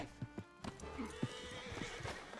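A horse in a video game clops its hooves in a few distinct beats, then gives a drawn-out neigh and snorts, all fairly faint and close.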